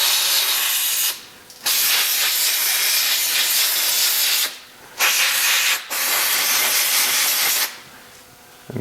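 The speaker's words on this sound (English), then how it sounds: "So I'm just going to clean it with some brake clean." Long, loud hissing blasts of brake cleaner spray hit Porsche Boxster suspension parts, three sustained bursts separated by short pauses, with no talking.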